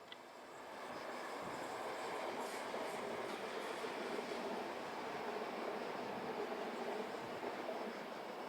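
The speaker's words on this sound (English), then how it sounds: "A Class 444 is the first loco to be seen, followed by a Pendolino set." A Class 444 locomotive and a Pendolino train cross a river bridge, giving a steady, distant rumble of wheels on rails that swells early and holds evenly throughout.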